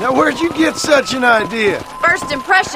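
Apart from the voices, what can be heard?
None of the usual background noises is heard.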